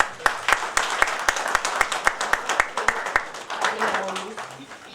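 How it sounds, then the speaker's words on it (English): Audience at an MoU signing ceremony for a strategic partnership claps in a brisk, fairly even rhythm that thins out, then a voice speaks as the clapping trails off. "We may again clap."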